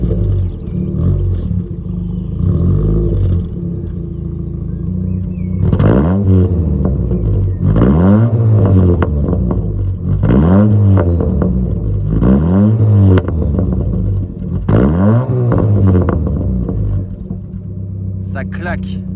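A first-generation Honda Prelude engine is blipped repeatedly, about five loud swelling revs toward 3000 rpm, each rising and falling in quick succession. It is heard up close, with voices talking around it.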